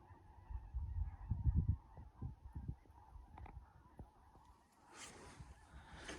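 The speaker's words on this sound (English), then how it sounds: "They flew directly overhead and just, I mean, it was crazy loud." A large flock of geese in Manitoba honks loudly directly overhead, a thick clamor of calls with low rushing wingbeats early, fading as the birds pass.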